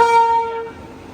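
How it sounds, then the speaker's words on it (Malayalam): A Sanghamitra Express, running from Danapur to SMVT Bengaluru, stands at Jabalpur station platform 1 and sounds a loud, tonal horn blast that fades away within about a second. "ദാനാപൂരിൽ നിന്ന് SMVT ബംഗളൂരിലോട്ട് പോകുന്ന സംഘമിത്ര എക്സ്പ്രസ് ഇതാ പ്ലാറ്റ്ഫോം നമ്പർ 1"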